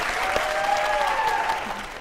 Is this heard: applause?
yes